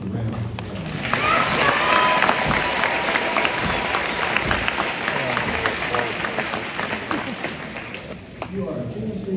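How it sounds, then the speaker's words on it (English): A graduation ceremony audience applauds the students with loud, continuous clapping and crowd noise that swells, dips briefly near the end and resumes, with voices mixed underneath. "Please give these students a round of applause."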